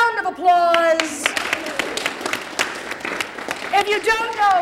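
A workshop audience at a Cymbeline Shakespeare session breaks into a short burst of close, lively clapping, with voices speaking just before and after.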